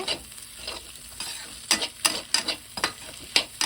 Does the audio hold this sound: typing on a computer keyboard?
no